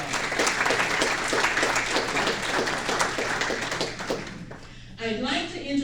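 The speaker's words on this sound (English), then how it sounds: "let's give her a round of applause" A dinner audience breaks into warm applause, dense clapping that runs for several seconds and then fades, followed by a voice starting to speak.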